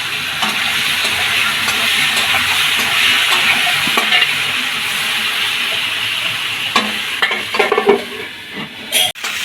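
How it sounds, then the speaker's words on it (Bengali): Cauliflower florets fry in oil in a pan, making a steady, close sizzle with stirring. A few sharper utensil clatters and scrapes come near the end. "কফিগুলো ভেজে নেবো এক এক করে।"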